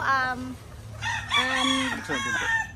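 A high action hatch gamefowl rooster crows close by in one long, strained call, with a shorter clucking or crow-like sound just before it.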